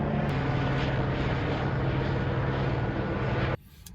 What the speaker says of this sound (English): You can hear the helicopters above.